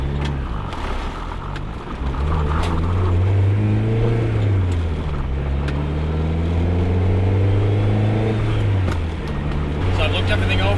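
A turbocharged first-generation DSM car drives and accelerates into boost, its engine note rising and falling steadily with rumbling harmonics throughout, loud and close, with faint talk underneath.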